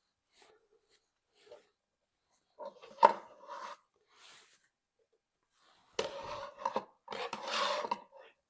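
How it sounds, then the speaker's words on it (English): Potatoes are grated or peeled in a home kitchen while cooking Polish food, with short rasping scrapes in scattered bursts. The strokes are quiet at first, then longer and louder near the end. "anybody else love grating potato or peeling potatoes?"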